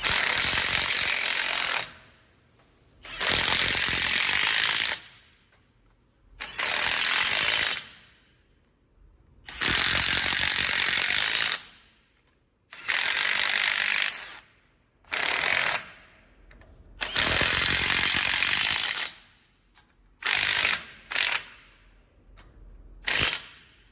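Loud ratcheting bursts from a wrench tightening brake rotor bolts in a cross pattern on a Bluebird bus, repeated clicking runs of a second or two separated by brief silences.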